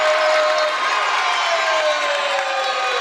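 A high school boys basketball final crowd roars with sustained cheering and applause, loud and continuous throughout with scattered whoops, filling the gym.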